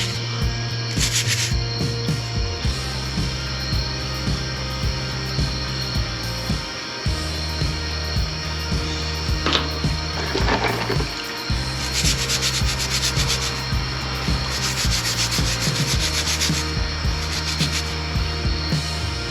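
Blue quartz stones from Chester County being scrubbed clean of dirt, a steady rough scraping and rubbing that runs continuously at close range with brief pauses and faint clinks.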